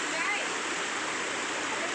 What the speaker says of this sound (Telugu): ఇది కూడా మారేడుమిల్లిలోనే ఇంకొక ప్లేస్ వాటర్ ఫాల్స్.